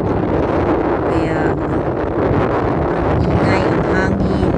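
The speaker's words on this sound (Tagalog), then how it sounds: "Oh my God, yung sounds kung marinig nyo. Sobrang hangin." Strong wind gusts between high-rise buildings around a hotel, making a loud, constant roar with heavy buffeting against the microphone.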